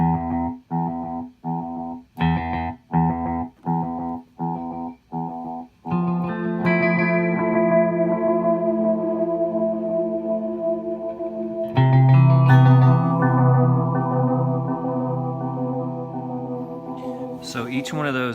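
Short plucked electric guitar notes repeat in even echoes through a Tonal Recall delay pedal with reverb off, followed by sustained chords trailing long delay repeats that spread and wash out in stereo.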